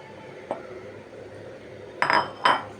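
Raw green mango pieces stirred in a pan with chilies for a garlic-chili pickle, heard as one soft scrape and then two louder metallic clinks of a utensil against the pan over a quiet background.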